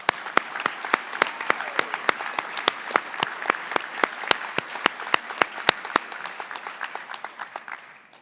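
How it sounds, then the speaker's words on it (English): An audience applauds at a senior awards night, a steady patter of many hands with sharp claps standing out close by, fading slightly toward the end. "Let's give them a round of applause"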